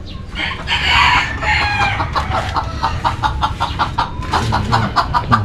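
Bantam hens and chicks clucking and peeping close by, a steady busy chorus of short repeated calls with no talking.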